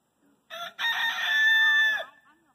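A newly introduced rooster crows loudly and close by in a flock on a hot 90-degree day, one long drawn-out call with a brief lead-in, ending abruptly with faint clucking around it.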